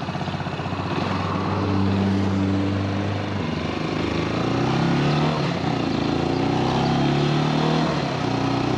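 A Porsche car passes a Brixton 250 motorcycle, its engine note rising and shifting in pitch as it goes by, over the steady close drone of the motorcycle's own engine.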